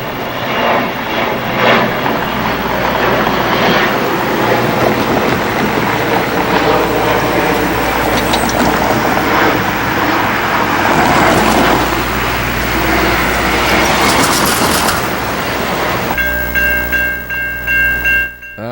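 Passenger train running from Pontiac toward Chicago, passing close by with a loud sustained rumble and roar that holds steady for most of the time, then a tonal horn-like whine near the end; an aircraft tone may blend in.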